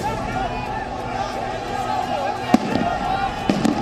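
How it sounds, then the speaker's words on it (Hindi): Sharp gunshots and blasts ring out during clashes between Muqtada al-Sadr supporters and security forces at a government palace in Baghdad, Iraq. Two distinct bangs stand out over a dense rumble of crowd noise and shouting. "धमाकों की आवाज से पूरी फिजा गूंजने लगी"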